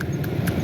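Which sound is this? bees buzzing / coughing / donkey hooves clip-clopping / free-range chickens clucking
donkey hooves clip-clopping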